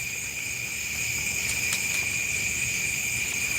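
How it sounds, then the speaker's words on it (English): Steady insect chorus of crickets and cicadas, a continuous high-pitched buzzing drone with a few brief louder chirps, no voices. "Crickets, yeah. Yeah, it's nice out here. Cicadas are starting to ramp up."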